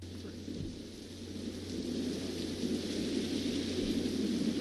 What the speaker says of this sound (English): How many songs do you know start off with thunder and lightning like that?